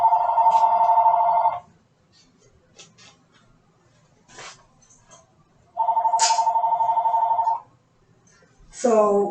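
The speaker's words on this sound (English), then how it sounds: "Let me see who that is on the phone." A telephone rings in two long electronic trills separated by a pause, loud and close, with a short tonal blip starting a third, amid faint background shuffling.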